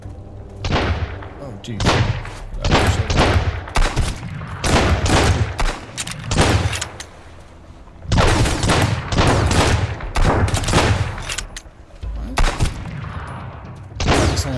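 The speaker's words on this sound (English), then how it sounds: "Let's see how this gun performs." Repeated loud gunfire bursts from a gun in the survival game Sunkenland during an attack, dense overlapping shots and booms filling the whole stretch, with a brief spoken exclamation among them.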